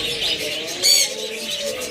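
A pair of red-eyed pet cage birds coo softly at close range, with low, rolling calls and a brief louder chirp in the middle.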